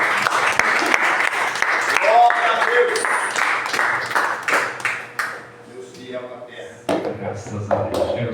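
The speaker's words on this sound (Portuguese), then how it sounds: "Vamos receber o profeta Isaías com as tuas palmas que exaltem e agradecem o Senhor." A church congregation claps to welcome a visiting preacher, dense applause at first that tapers off as a voice and other sounds take over.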